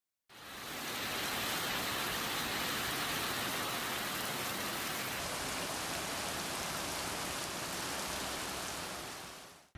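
Heavy rain pours down in Wajima in Japan's Noto region, a dense, constant roar that holds steady and loud for about ten seconds, with no voices.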